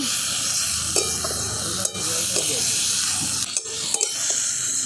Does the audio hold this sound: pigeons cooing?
no